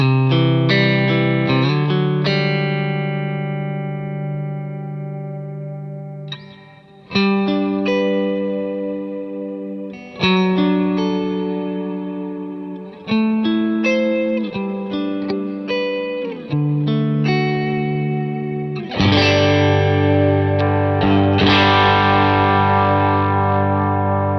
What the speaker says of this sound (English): the large hall sounds pretty good